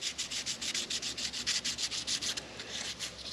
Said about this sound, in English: Just a little hit with some very fine sandpaper.